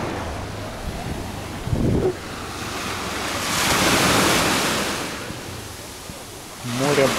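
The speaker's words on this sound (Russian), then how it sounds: "Море просто обалденное сегодня." Sea waves rolling onto Cleopatra Beach in Alanya, Turkey, a broad surf roar that swells and recedes under gusty wind on the microphone, with a voice briefly heard near the end.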